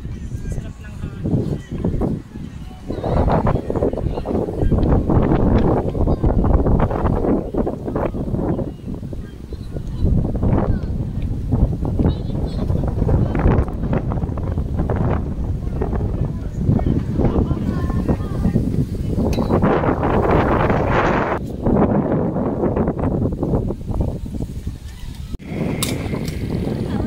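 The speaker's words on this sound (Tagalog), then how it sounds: "Sarap ng hangin." Sea breeze sweeping across Siloso Beach, buffeting the microphone in loud continuous gusts while people talk over it.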